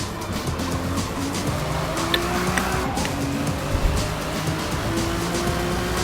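Race car engine in Forza Motorsport, driven on a circuit, with a continuous revving drone, shifting pitch and some tire squeal, without speech.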